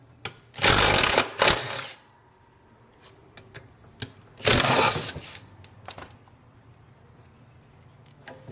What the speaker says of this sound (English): Using our 1/2 inch socket, we'll remove the 3 1/2 inch bolts holding the transmission in.